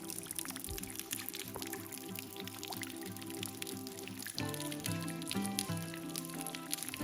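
Rainwater that soaked through leaves and topsoil to a sandstone caprock drips off the edge of a cliff, a steady wet patter of drops and trickling water over a continuous watery background, fairly close and without voices.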